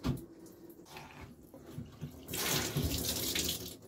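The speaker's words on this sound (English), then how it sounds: "Can you see all the water coming out?" Water gushes out of a soaked T-shirt, starting as scattered trickles and drips, then swelling into a louder, continuous splashing stream near the end.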